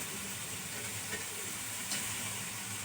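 Pre-fried fish goes into a pan of spicy masala for a Bengali fish curry, bringing up a steady, close sizzle with a couple of faint scraping stirs.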